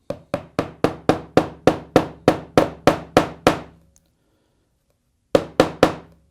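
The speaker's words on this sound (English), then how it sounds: "I'm just going to tap the brad nail into our spot here to give us a nice reference" A hammer taps a brad nail into a wooden workpiece in a woodshop: a quick run of about a dozen sharp, evenly spaced knocks, a pause of over a second, then three more taps, close and clear with no talk.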